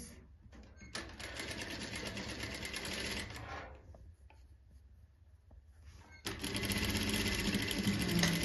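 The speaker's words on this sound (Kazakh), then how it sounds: "Осы қиған кезлемелеріміздің бәрін тігіп аламыз." Sewing machine stitching cut quilt patchwork pieces together, a fast close mechanical whirr in two long runs broken by a pause with small clicks and handling noises.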